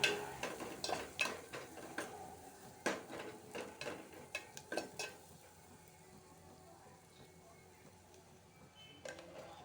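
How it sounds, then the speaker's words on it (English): Stirring and mixing tomato dal in a pan for Andhra-style tomato pappu, with a cluster of sharp utensil scrapes and clinks early on, then softer, sparser stirring and a faint sizzle. "Mix everything and cook for 1 minute."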